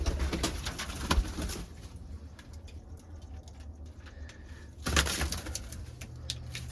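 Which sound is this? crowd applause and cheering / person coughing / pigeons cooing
pigeons cooing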